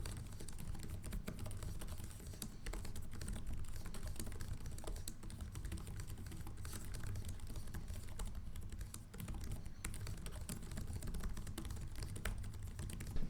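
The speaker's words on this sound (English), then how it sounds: "This is a typing test of the keyboard of the Dell Inspiron 16 Plus." Steady, continuous typing on the keyboard of a Dell Inspiron 16 Plus 7610 laptop, close up, with soft rapid key clatter and no talking.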